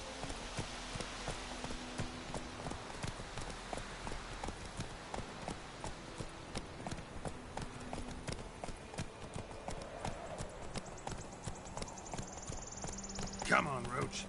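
A horse's hooves trot in a steady clip-clop rhythm in the video game The Witcher 3, continuous and moderately close, while characters talk over the hoofbeats.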